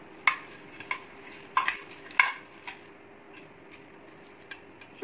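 Dry bhelpuri is tossed with squeezed lemon juice in a bowl, giving a few sharp clinks and scrapes of a utensil against the dish, spaced irregularly over a quiet background.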